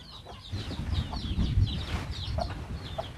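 Several chickens cluck and chatter nearby in a continuous, busy flock at a rural rice mill in the Philippines, with outdoor ambience underneath.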